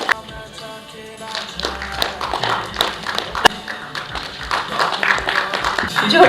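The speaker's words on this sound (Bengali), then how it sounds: "আমরা সকলে সবাই একটু হাততালি দেওয়া হোক।" At a discussion meeting and theatre evening at Sisir Mancha, a voice speaks over scattered hand claps that grow thicker and louder toward the end as the audience joins in.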